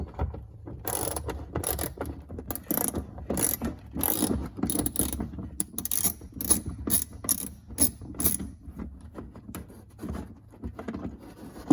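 Ratchet loosening a mudflap mounting bolt on a BMW F30, rapid close clicking strokes repeating steadily in bursts, loud and alone without talk.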